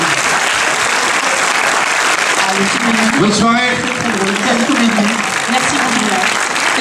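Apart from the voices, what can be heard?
audience applause at film premiere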